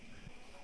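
Telephone keypad dialing tones from a coin payphone in the video game Wrongworld: near-silence, then one short, loud beep right at the end.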